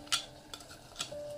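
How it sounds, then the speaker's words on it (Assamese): A spoon stirs soaked rice in a covered pot of salted boiling water for pork biryani, giving three short scraping clinks spaced about half a second apart, close and alone. "এয়া মাজতে এবাৰ লৰাই দিছো"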